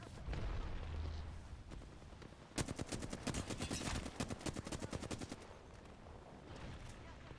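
Rapid gunfire bursts with a sharp grenade blast in Apex Legends, a dense volley erupting after a low rumble and rattling on for several seconds before fading into a murmur of game noise.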